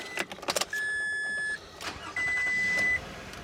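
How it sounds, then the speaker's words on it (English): A 2003 Toyota Alphard engine starting, with short cranking bursts broken up by two sustained electronic warning chimes from the dashboard, all heard close up and without any talking. "Just start the engine up."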